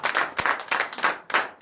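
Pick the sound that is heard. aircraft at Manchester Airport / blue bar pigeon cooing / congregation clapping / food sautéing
congregation clapping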